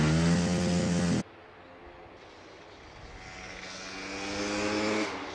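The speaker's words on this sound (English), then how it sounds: "Patrick is on the Honda CR 500cc Honda" A Honda CR 500cc motorcycle races up the Prescott hill climb course: a loud, close, harmonic engine roar cuts off abruptly after a second, leaving a faint, distant engine note that slowly swells as the bike climbs away.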